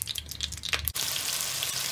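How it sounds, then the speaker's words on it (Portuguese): Beef sautés in a pan for stroganoff with a steady sizzle and crackle, preceded by a few clinks and splashy kitchen sounds before the hiss settles into a continuous, close fry. "Tá refogando."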